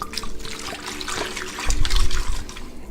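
Simply Apple juice poured into a cooking pot over apples for homemade apple pie drink, a trickling liquid splash that swells louder toward the end, close and alone without talk.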